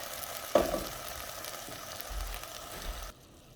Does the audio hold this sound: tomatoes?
yes